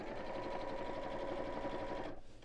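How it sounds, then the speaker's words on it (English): A sewing machine runs steadily, stitching around the bottom three sides of a messenger bag, a close, continuous mechanical whir that stops abruptly near the end. "I'm just sewing all the way around the bottom three sides"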